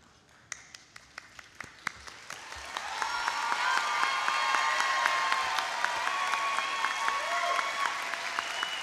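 A high school graduation audience applauds summa cum laude scholars as they stand, starting with a few scattered claps that swell into a full, steady round of applause filling the hall.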